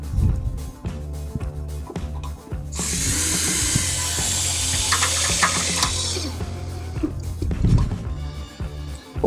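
A power drill with a number 2 square drive bit runs 3/4 inch tech screws into stair rail clips, giving one sustained whirring drive of a few seconds, close and loud, with handling clicks and knocks around it.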